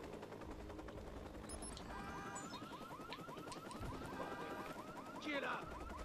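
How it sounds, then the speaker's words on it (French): A car alarm sounds in the video game Watch Dogs, its repeating warbling tones running steadily through the middle of the clip over game ambience and low rumble, with a brief louder burst near the end. "On va déclencher l'alarme, il va se retourner vers le véhicule."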